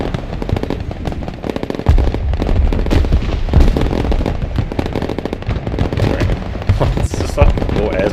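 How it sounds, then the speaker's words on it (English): Airstrike explosions from the video game Broken Arrow crackle and pop in rapid, loud, sustained bursts like a firework volley, with someone talking over them. "It's just like 4 airstrikes again"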